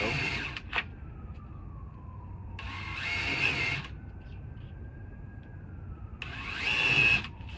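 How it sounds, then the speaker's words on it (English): A power drill with a 5/16 drill bit bores into a storm door, whining loudly in two bursts with a quieter steady hum between them, close up and without talk. "So drill with a 5/16 drill bit and start"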